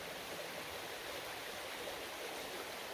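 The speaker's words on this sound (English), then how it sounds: "Just having the water flow really fast" Fast water rushes in a stream, a continuous broadband hiss and roar, close and steady with no pauses.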